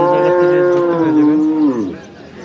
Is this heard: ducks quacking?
no